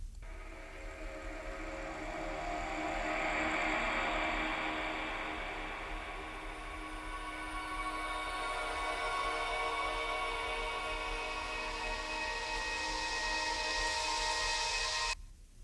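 Dense atmospheric pad layer in an electronic music production, a broad airy wash with hissy highs and sustained tones, steady and loud throughout, then abruptly cutting out right at the end.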